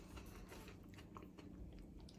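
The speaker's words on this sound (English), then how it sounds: "The peppers still have some crunch to them" Crunchy bell peppers in a black pepper chicken stir fry being chewed, soft quiet crunching and biting close to the mouth, faint throughout.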